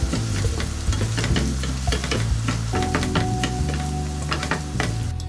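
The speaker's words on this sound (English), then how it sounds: "Then add 1 chopped white onion into this. Saute it well again." A chopped white onion sautés in a pan for lasagna, giving a steady, close sizzle broken by frequent scraping stirs, with no talking.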